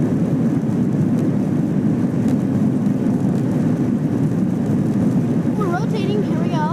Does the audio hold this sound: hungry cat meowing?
no